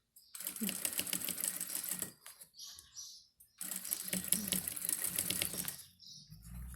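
A sewing machine stitches fabric for a wallet in two fast rattling bursts of dense needle clatter, split by a short pause with a couple of soft clicks, then stops at the end.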